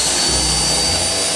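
A cheap $30 Aldi stick vacuum cleaner runs with a steady high-pitched whine and airy hiss, close and loud, its motor dipping briefly before settling into a constant drone.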